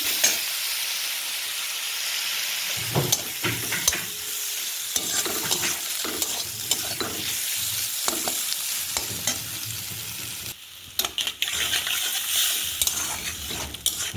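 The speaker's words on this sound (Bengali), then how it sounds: "একটু মশলাটাকে ভেজে নিচ্ছি সব কিছু দিয়ে।" Spice paste sizzling and frying in a pan, a steady crackling hiss broken by scraping stirs and occasional clinks of a utensil against the pan, close and continuous with no talking.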